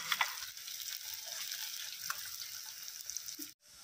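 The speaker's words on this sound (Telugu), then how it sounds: "ఆనియన్ ఇలా ఫ్రై అయిన తర్వాత నెక్స్ట్ మనము గ్రీన్ చిల్లీ అండ్ కరివేపాకు యాడ్ చేసుకోవాలి. ఇవి కూడా కొంచెం రోస్ట్ అవ్వాలి." Onion, green chillies and curry leaves frying in a pan for a prawn fry give a steady, soft sizzle that keeps going at low volume with no talking.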